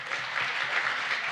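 Audience at a Cedar Rapids pub politics event bursting into steady applause, dense clapping filling the room at even loudness throughout the short burst with no talk over it.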